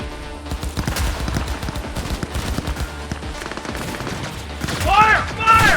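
Rapid gunfire from the video game Cyberpunk 2077, a dense fusillade of overlapping shots and automatic bursts mixed with metallic clatter, growing louder near the end with ringing tones, under faint background voices.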